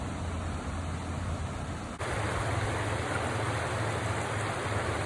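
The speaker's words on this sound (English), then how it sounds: "We are down along the Virgin River, right at the Babylon area." Virgin River flowing through the desert near Babylon, a steady broadband rush of moving water with a low rumble, constant and close, with a brief dip partway through and no voices.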